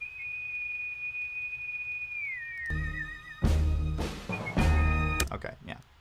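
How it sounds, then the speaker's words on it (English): A steady, clear whistled tone holds alone for over two seconds, wavers and bends, then gives way to louder mixed music with a bright tone sitting inside it; an original, unprocessed whistle recording. "Let me see this original whistle."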